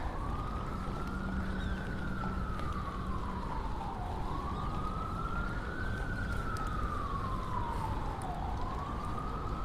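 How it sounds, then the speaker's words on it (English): A wailing siren sweeps up and down in long, steady cycles over continuous traffic rumble, loud and sustained throughout. "Lots of sirens."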